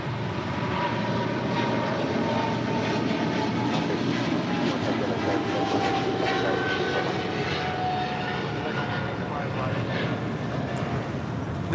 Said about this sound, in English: This is LATAM Airlines Flight 8087, operated by LATAM Brazil, departing to Sao Paulo, Brazil, on a 777-300ER.